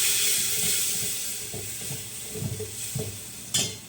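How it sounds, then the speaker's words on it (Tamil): A spoon scrapes and clatters in a pan of sizzling spiced mutton pepper fry, with a few sharp metallic knocks near the end. "இப்போ வந்து நாம் இதை நல்லா மிக்ஸ் பண்ணிக்கலாம்."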